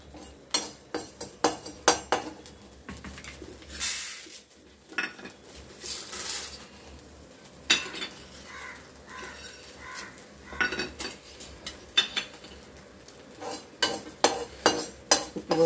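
Coarse rock salt tossed in a hot pan off the heat rattles and scrapes in sharp, irregular bursts of gritty clatter and metallic clinks, some quieter stretches of light sizzling between stirs; no talking.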